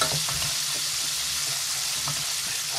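Chicken pieces fry in hot oil while being stirred until browned, a dense, continuous sizzle close up with faint stirring knocks and no voices.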